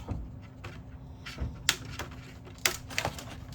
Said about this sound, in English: just going to use my little plastic nippers to just cut the plastic backing part away from the top